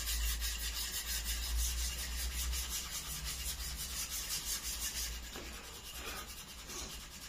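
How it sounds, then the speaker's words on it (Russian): A wooden knife handle being sanded with sandpaper, a steady back-and-forth rubbing rasp that runs continuously and close up, easing slightly in the last couple of seconds. "Наждачка."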